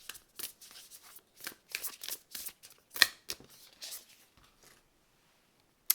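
Oracle cards are shuffled by hand in quick, crisp riffling bursts with short pauses, close and fairly clear, falling quiet toward the end.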